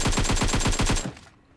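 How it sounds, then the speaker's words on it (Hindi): Rapid automatic gunfire in a mobile battle royale game, a fast regular burst of about ten loud shots lasting roughly a second, then cutting off to quiet. "उतनी में पीछे से फायर आता है"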